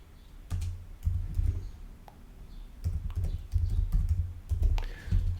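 Fingers typing Python code on a computer keyboard, close and fairly quiet, in irregular bursts of rapid key clicks separated by brief pauses.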